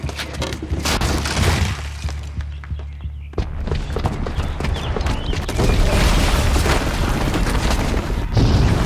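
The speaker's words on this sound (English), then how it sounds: "the booby trap on the bomb downstairs is gonna get set off" A bomb booby trap exploding in the video game Horizon Zero Dawn: loud, rumbling blasts with crashing debris that keep roaring without a break.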